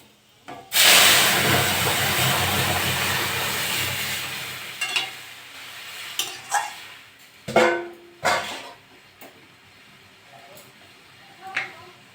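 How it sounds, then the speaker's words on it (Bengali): Dal poured into hot oil with fried dry red chillies for a mango dal bursts into a loud, broad sizzle that gradually fades, followed by a few sharp clinks and stirring knocks. "এবার ডালটা ঢেলে দেবো"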